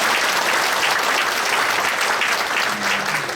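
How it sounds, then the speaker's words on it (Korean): A congregation applauds steadily and loudly at a church worship service marking the 80th Liberation Day anniversary, a dense wash of clapping held throughout. "감사의 박수 올려드리겠습니다"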